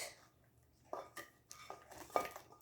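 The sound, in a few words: scrambled eggs moved from pan onto plate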